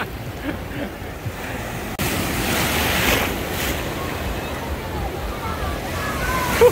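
Sea waves breaking on a Bulgarian resort beach, a loud rushing surge that swells after a brief quieter start and stays continuous, with wind noise on the microphone and voices faintly mixed in.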